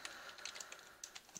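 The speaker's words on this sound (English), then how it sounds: "Please excuse the typing noises" Typing on a computer keyboard, a quick irregular run of light clicking keystrokes, close and fairly quiet, with no voices.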